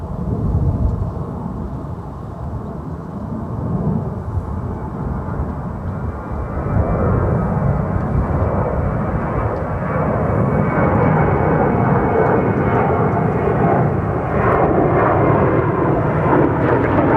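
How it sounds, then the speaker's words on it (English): American Airlines Airbus A321 departing, a sustained broadband jet engine roar that swells steadily louder over about seventeen seconds, with no voices. "Next departure is American Airlines Flight 1961 heading to San Antonio,"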